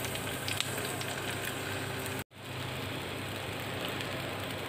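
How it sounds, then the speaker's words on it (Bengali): Sweet pumpkin pieces fry in mustard oil in a home kitchen, giving a continuous, close hiss and sizzle that cuts out for a split second before resuming at the same steady level. "মিষ্টি কুমড়োগুলো ভেজে নিব"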